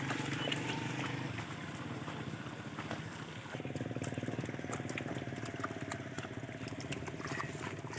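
Motorcycles riding down a wet village road after the first monsoon rain, with engine drone building midway and continuing steadily at moderate distance amid outdoor ambience.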